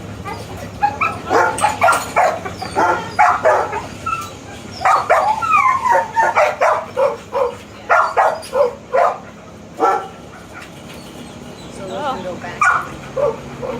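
Dogs barking at an animal shelter, a run of sharp repeated barks and yips in quick bursts, loud and nearby, with a person talking between and over them.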